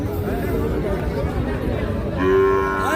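A calf moos loudly near the end, rising over the chatter of a busy crowd of people talking nearby.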